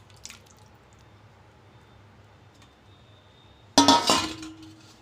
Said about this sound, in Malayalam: നമ്മുടെ വേവിച്ച് വെച്ച ചുരയ്ക്ക് അതിലേക്ക് ഒഴിച്ചു കൊടുക്കാം